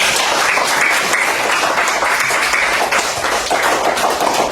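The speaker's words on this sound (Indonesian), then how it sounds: "Tepuk tangan dulu untuk kita semua." A classroom of students claps together after group work, loud and dense applause filling the room, with some sharper taps and no talk over it.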